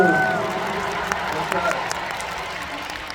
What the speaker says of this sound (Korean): 우리 많은 스태프분들께 우리 박수 한 번만 쳐주셨으면 좋겠습니다. 박수!